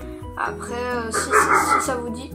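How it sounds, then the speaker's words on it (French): A pet dog barks and yips close by, its sharp calls overlapping someone speaking French over steady background hum. "c'était mon chien, excusez-moi."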